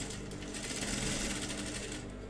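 A sewing machine stitches a blouse, a continuous fast whirring stitch run, faint and close, alone without talk.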